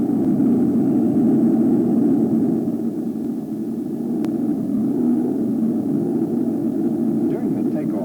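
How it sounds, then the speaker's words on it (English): A Boeing 727 rolls down the runway for takeoff in a flight simulator: a steady, loud, low jet-engine roar with rumbling noise that holds nearly even throughout, dipping slightly partway through. "During the takeoff roll, our captain uses ground reference cues to maintain runway alignment."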